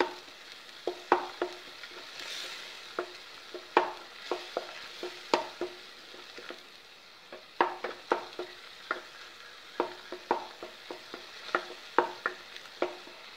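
Masala for a paneer gravy fries in a pan, with soft sizzling under repeated sharp scrapes and taps of a spoon stirring, fairly quiet and close, no talking.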